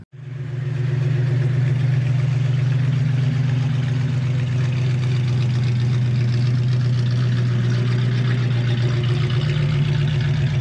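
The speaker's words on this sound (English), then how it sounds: "V8, this is an 81, so even though it's a Z28, still came with a 305. This is the numbers matching 305. Runs beautifully." An original 1981 Camaro Z28 with its numbers-matching 305 V8 fires up and settles into a steady, deep idle, close and loud for about ten seconds, with a strong low rumble and no voices.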